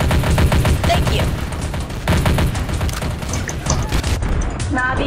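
Gunfire in a Garry's Mod Trouble in Terrorist Town round, dense bursts of shots and booms packed through the whole stretch, loud and close, with players talking over the shooting.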